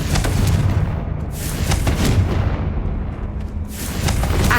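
Repeated Confringo blasting spells in Hogwarts Legacy, a series of loud booming explosive impacts in quick succession, each a heavy thud with crackling tail.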